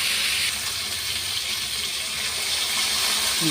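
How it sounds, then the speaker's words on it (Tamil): Water pours steadily into a pan with a continuous gushing splash, close and fairly loud, running throughout without a break. "லைட்டாக தண்ணி ஊற்றி கொஞ்சம் காய் வேக விட்டுருவோம்"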